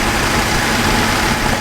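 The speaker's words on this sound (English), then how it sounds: "Time to start the car back up and double check that we're firing on all 6 cylinders" Datsun 240Z inline six-cylinder engine, tuned because it won't rev, runs with a loud, steady rumble close by, with no talking.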